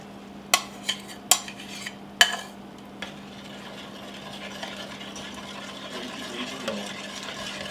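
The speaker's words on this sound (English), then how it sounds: "You want to stir that up really quick." Egg is stirred into a chocolate bread pudding mixture. Several sharp utensil clinks against the bowl come first, followed by a quieter, continuous scraping and mixing over a low steady hum.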